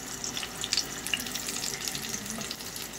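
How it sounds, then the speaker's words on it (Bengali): Large fish pieces fry in hot oil, a steady close sizzle with light crackles and pops and no talk. "মাছটা দেখো দিয়ে দিলাম তেলে"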